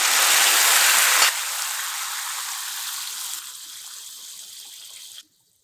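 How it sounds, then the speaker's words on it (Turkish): Hot water is poured into a pan of rice and melted butter, a loud rushing splash that drops to a softer, steady pour in stages and then stops abruptly, heard up close with no talking. "Tereyağım eridikten sonra sıcak su ilave ediyorum."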